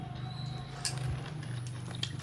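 Someone chews a roasted wheat grain snack (bhuja) at home, with soft close crunches and squishy bites over a low steady hum, including a sharper crunch near the middle.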